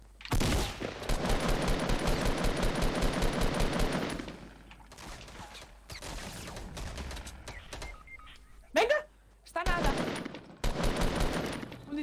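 Rapid automatic gunfire in the Fortnite battle royale game, long sustained bursts of shots, then scattered single cracks and another loud burst, with game effects mixed in.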